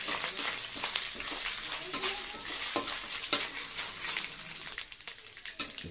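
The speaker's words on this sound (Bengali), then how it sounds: "নারকেল ভাজতে ভাজতে তার মধ্যেই ফোড়ন দিয়ে দেবো" Grated coconut fries in a pan while being stirred, giving a steady soft sizzle broken by scraping stirring strokes, fairly quiet and close, with no speech.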